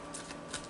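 Archangel oracle cards are shuffled in a quick, soft riffle of papery flicks, close and quiet, with no one speaking.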